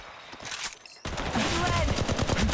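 Automatic weapon fire in the mobile battle royale Apex Legends Mobile: a brief quieter stretch, then dense, sustained rapid bursts of gunshots that stay loud and close to the end.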